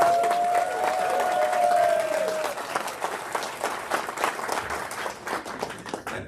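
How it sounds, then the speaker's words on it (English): Handball banquet audience applauding a tournament organizer and his team, steady clapping from a room full of people with a whistle and some cheering early on, fading slightly toward the end. "I think just a big round of applause to Matt Krauser and his team"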